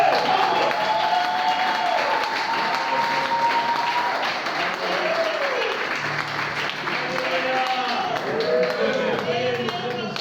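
A church congregation in Winnipeg applauds loudly and steadily, a dense wash of clapping with cheering voices mixed in that holds at full strength for the whole stretch.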